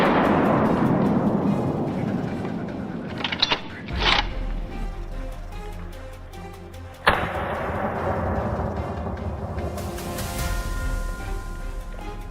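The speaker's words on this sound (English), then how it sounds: "A gunshot rang out instantly, and the boar collapsed" A hunter's rifle fires once in a snowy forest during a wild boar hunt. The single sharp, loud crack stands out against a rumbling, busy background, with a softer thump a few seconds earlier.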